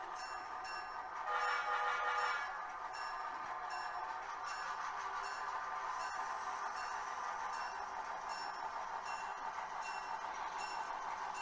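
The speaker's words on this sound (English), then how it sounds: "This is just another angle of the same train leaving the stop sign and going over the Diamond." A freight train pulls away from a stop sign and rolls over a diamond rail crossing in a yard. A steady, loud rumble of wheels and cars carries throughout, with a brief swell near the start.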